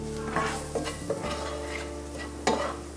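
Sausage fries in a pan with a light sizzle while a utensil stirs it around, making several distinct scraping strokes up close over faint background tones.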